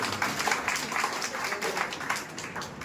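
Audience at a community meeting in Nagpur applauding the women's team, a steady wash of mid-distance clapping lasting throughout, with faint voices mixed underneath.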